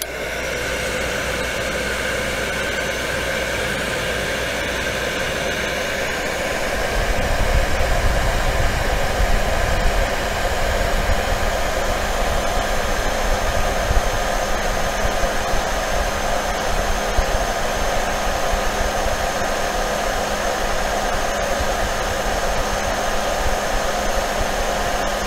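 A hot-air gun blows steadily on an acrylic rod being heated to bend it, a loud, even rushing hiss that deepens and strengthens a few seconds in, then holds for the rest of the stretch with no talking.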